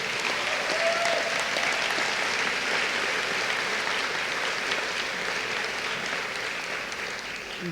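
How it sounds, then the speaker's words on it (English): A large audience at the 2014 Columbia University Journalism School graduation ceremony applauds continuously, a broad, even roar of many hands clapping that stays strong and steady throughout, fading only slightly toward the end. "give her a round of applause"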